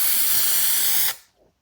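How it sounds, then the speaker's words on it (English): A close aerosol can of primer paint sprays one steady, loud hiss for about a second before cutting off abruptly. "Alright, let's spray the first pass on top"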